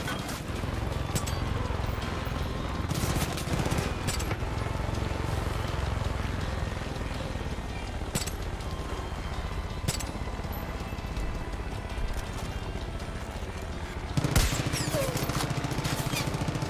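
Gunfire in Far Cry 5 rings out as scattered sharp shots and short bursts over a constant busy game din, with one heavier blast near the end and no speech.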